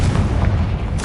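A single booming blast from the Confringo spell in Hogwarts Legacy, a short loud explosive burst with a low rumble and a brief crackle at the end, no speech over it.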